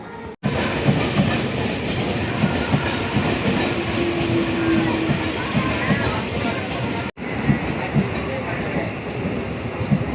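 A train at a railway station gives a steady, loud rumble with faint rhythmic clatter running the whole time, and people talk nearby over it.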